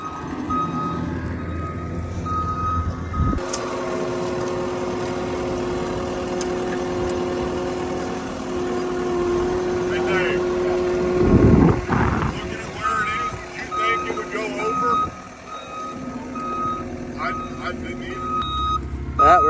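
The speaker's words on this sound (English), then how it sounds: "flip her back over with a couple skid loaders" Skid loaders work on a farm to flip an overturned silage wagon, their diesel engines droning steadily for the whole stretch while a reversing beep repeats and metal clanks; voices talk over the machinery at times.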